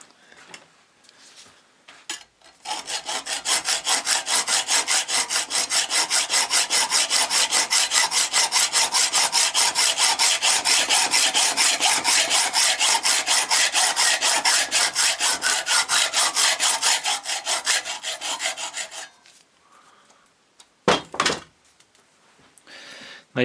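A hacksaw cuts through the threaded end of a Subaru Impreza alternator bolt clamped in a vise, a steady loud rasping stroke rhythm running continuously for about sixteen seconds, then stopping, followed by a few brief metallic knocks.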